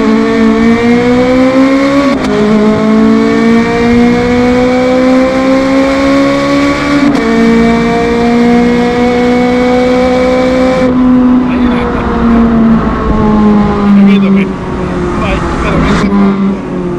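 A loud Ferrari 430 Scuderia engine roars at high revs toward 8,500 rpm, climbing in pitch in several surges with brief gear-change dips, close and continuous.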